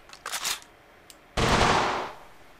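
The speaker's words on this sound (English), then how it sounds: "let's do some auto fire" A G36 rifle in a gun disassembly video game firing on full auto: a short burst, a pause, then a sustained loud rattle of rapid shots that tails off.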